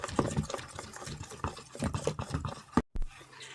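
Pancake batter being whisked by hand in a bowl, a quick run of close, rhythmic scraping and tapping strokes that stops briefly near the end.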